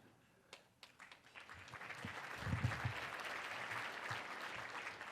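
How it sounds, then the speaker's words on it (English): An audience at a city's State of the City address starts with a few scattered claps that swell into moderate, somewhat distant applause, building through the middle and holding steady to the end. "Not too many people clap for reserves."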